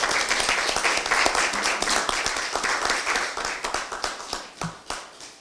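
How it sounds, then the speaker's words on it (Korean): Applause from a crowd at a Democratic Party of Korea meeting, with distinct sharp claps standing out as the clapping thins and tapers off toward the end. "큰 박수 부탁드리겠습니다."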